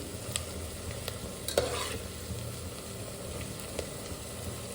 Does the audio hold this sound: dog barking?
no